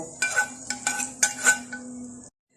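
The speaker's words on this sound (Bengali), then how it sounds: "এখন আমি এই বেরেস্তাটা কালা ভুনার মধ্যে ঢেলে দিলাম তেল সহ।" Fried onions with mustard oil are poured into cooking beef kala bhuna and stirred, giving a few clinking metal-on-pot knocks and scrapes over a soft sizzle, close and moderately loud before stopping abruptly.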